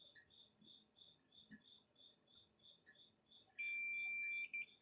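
A multimeter set to continuity gives a sustained electronic beep as probes touch the connector pins of a Gallagher livestock squeeze chute load bar. Short clicks and faint chirps come first, then a loud, steady tone near the end.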